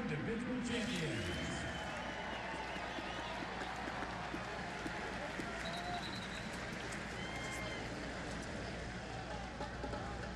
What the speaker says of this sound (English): Fans, please give a big round of applause for all of our Big 12 individual champions.